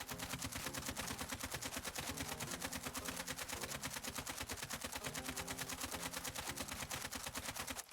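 Sustained fully automatic AK47 fire in Call of Duty Warzone, a loud rapid, steady stream of shots with even rhythm lasting the whole stretch and no pause.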